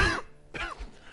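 Two harsh coughs from one person close to the microphone, separated by a short pause.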